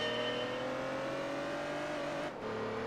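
A car engine in Gran Turismo 3 holds a steady high rev that climbs slowly in pitch, then drops abruptly as though shifting, loud and continuous with no voices.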